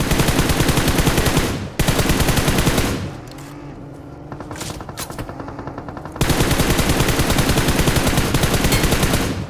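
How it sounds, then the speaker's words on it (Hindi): Rapid automatic gunfire in an online multiplayer shooter game, loud sustained bursts with a short break at around two seconds, a quieter stretch of scattered shots and effects in the middle, then heavy continuous firing again. "लेकिन तभी सामने की तरफ फायर हुआ।"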